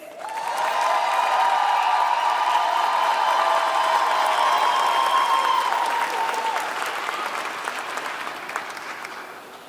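A large crowd applauds at an airport centennial celebration as a new general manager is introduced, steady loud clapping with a few cheers that holds for several seconds and slowly tapers.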